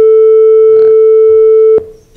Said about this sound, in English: this piece of code defines a sine wave of 440 hertz.